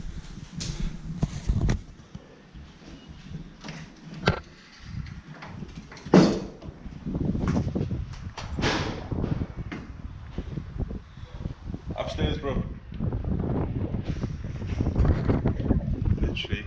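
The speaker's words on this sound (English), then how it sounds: "As you can hear, it's bloody windy in here and everything is just slamming." Wind blows through an abandoned school, gusting with a low rumble while doors bang and slam at irregular intervals, one loud knock standing out; someone talks over parts of it.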